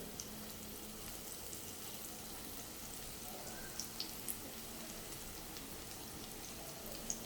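Broccoli cutlets shallow-frying in a pan on the second side make a faint, steady sizzling hiss dotted with a few soft crackles and pops, with no talk.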